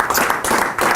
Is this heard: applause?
yes